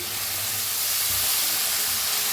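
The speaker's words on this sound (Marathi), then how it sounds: "मटकीची मोड बी भाजून घेऊया" Moth bean sprouts roast with brinjal in a pan, giving a steady close sizzle and hiss that holds evenly throughout.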